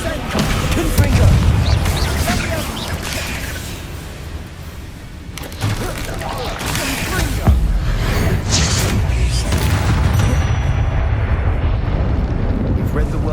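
Confringo fire spell blasts in Hogwarts Legacy, heavy booming eruptions and whooshing bursts rolling over a dense, noisy battle soundscape with no pause.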